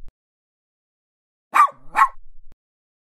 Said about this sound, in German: Ich habe einen kleinen Hund.